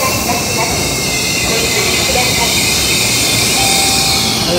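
A Shinkansen bullet train rumbles past a station platform steadily and loudly, with a broad rushing roar and a faint high wheel squeal toward the end.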